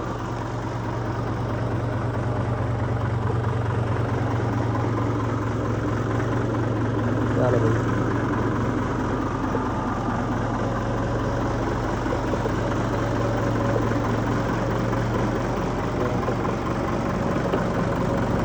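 A tractor engine idles steadily nearby with a low, even hum and vibration, while faint voices talk in the background.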